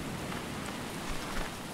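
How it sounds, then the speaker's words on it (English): Rain falls in the survival video game Stranded Deep as a steady, even hiss, with no other sounds and no voices. "It should stop raining very soon."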